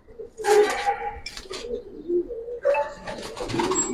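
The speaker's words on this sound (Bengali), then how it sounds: "এখানে বেশ কিছু কবুতর আছে যেগুলো আসলে খুব ভালো কবুতর মাশাআল্লাহ" Domestic pigeons of old breeds cooing in a loft, several soft throaty coos in short bursts with brief pauses, close by and with no talk over them.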